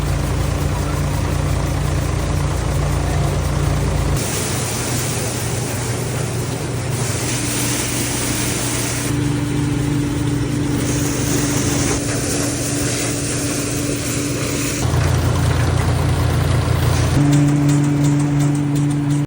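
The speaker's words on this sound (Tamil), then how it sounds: "வண்டி வந்ததும் சோளம் அடிக்க ஸ்டார்ட் பண்ணிட்டோம்." Corn threshing machine working in a farm setting in Kallakurichi, a loud, continuous mechanical drone whose pitch and texture shift abruptly several times while it runs steadily from start to finish.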